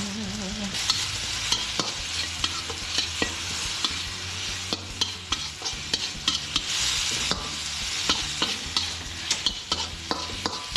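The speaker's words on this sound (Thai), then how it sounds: "เราก็ใส่ใบกะเพราลงไปพรึบแบบนี้" Crocodile meat stir-fried in a hot pan with holy basil leaves, garlic, chili and oyster sauce gives a steady, close sizzle broken by sharp spatula scrapes and clinks throughout, with no talking.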